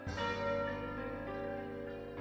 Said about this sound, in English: The church bells ring out in time.